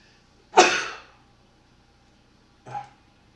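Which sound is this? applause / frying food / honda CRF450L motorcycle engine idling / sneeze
sneeze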